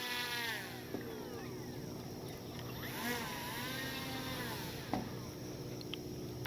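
A remote-controlled PBY Catalina model seaplane taxis on a lake, its twin small engines giving a faint, steady whine that rises and falls with throttle changes, with light water and wind noise.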